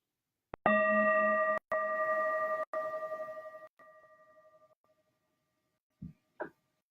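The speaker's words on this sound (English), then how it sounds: "Now let me give you this experience of hearing this bell." A resonant bell is struck once and rings with a clear sustained tone that slowly decays, interrupted by a couple of faint clicks, followed by silence and two soft brief knocks near the end.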